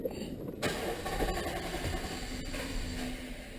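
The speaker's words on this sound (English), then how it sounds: "2011 Ram 1500. Crank no start." A 2011 Ram 1500 pickup engine cranks steadily with a whirring starter for a few seconds but never catches, heard close up.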